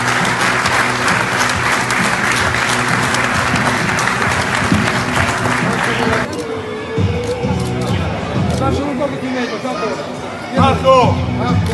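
A crowd at a football club's centenary jersey presentation in Piacenza claps loudly and continuously, then the applause fades as a voice speaks over the room noise.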